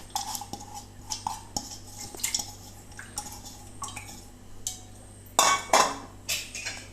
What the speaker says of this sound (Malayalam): ഇനി അതിലേക്ക് നമുക്ക് ഈ പരിപ്പ് കഴുകിയത് ഇട്ട് കൊടുക്കാം